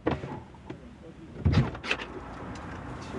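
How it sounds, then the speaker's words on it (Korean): A single solid thud of a Tesla Model S 90D car door shutting lands midway, close by, framed by quiet interior noise and a soft click or two. "문을 닫으면"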